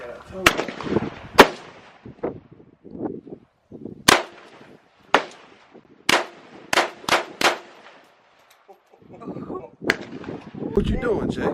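Assault rifle shots ring out at an outdoor shooting range, a series of loud, sharp single reports spaced irregularly, some in quick pairs, with people talking between them.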